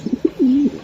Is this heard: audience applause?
no